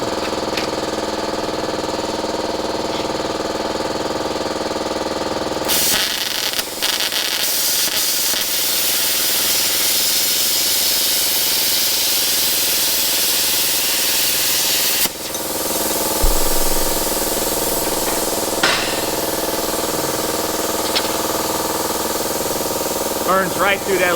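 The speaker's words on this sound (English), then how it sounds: "Burns right through that aluminum so fast." An Arccaptain Cut55 plasma cutter slices through 12 to 14 gauge aluminum sheet, giving a loud, steady hissing roar that holds for most of the stretch and shifts in tone partway through.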